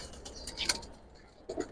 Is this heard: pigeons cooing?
yes